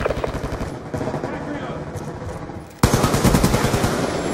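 Rapid automatic gunfire rattles in Black Ops 2, a dense stream of shots that drops back briefly before a louder, closer burst resumes, with game voices talking over the shooting.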